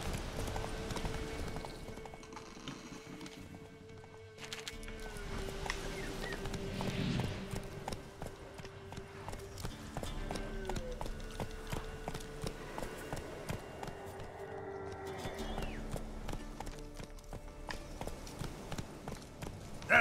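Horse hooves galloping in The Witcher 3 Enhanced Edition: a steady, fast clip-clop rhythm continues throughout, mixed with game music and ambient effects, with a voice urging the horse on faintly at moments.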